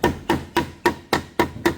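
A hammer strikes while drawer boxes are assembled for a kitchen remodel, seven sharp, close, evenly spaced blows in quick steady rhythm, with no talking.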